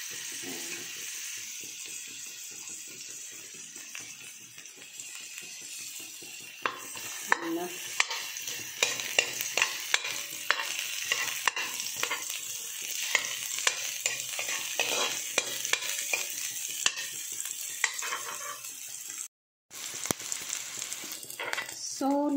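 Onion frying in a pan with a steady sizzle close by, a spatula stirring and scraping through it in repeated strokes, with a brief dropout near the end.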